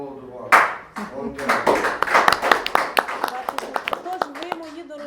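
Scattered hand claps from an audience at a festival meeting with soldiers, a small burst of applause that thins into sparse individual claps, with a voice speaking over the start.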